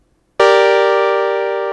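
A single analog synth oscillator sounds one bright, buzzy sustained note that starts abruptly after brief silence and holds with a slow, slight fade, heard alone and up close.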